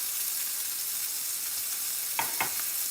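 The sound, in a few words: melting in a skillet on low heat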